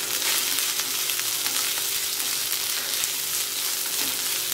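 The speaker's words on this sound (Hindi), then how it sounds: "और इसको अच्छे से भून लेंगे" Fresh green peas with chillies fry in a pan for upma, giving a steady, close, even sizzle throughout with no talking.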